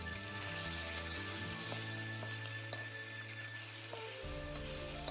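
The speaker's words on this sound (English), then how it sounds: "Now add in the shrimp and let it cook. Stir it around, cook on both sides." Shrimp frying in a pan while being stirred, a steady close sizzle with light utensil taps over a low background hum, no voices.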